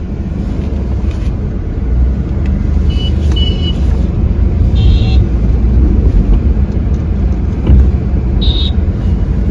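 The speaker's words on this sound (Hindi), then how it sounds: "इतना ट्रैफिक यहाँ पर, रोड कंस्ट्रक्शन चल रही है।" Heavy street traffic with road construction outside AIIMS Jodhpur: a loud, continuous roar of engines and road noise, with a few brief high horn-like tones and faint voices in the mix.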